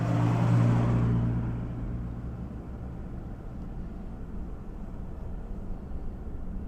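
A mail truck drives past close by on a residential street, its engine noise loud at first and then fading to a steady broad road rumble.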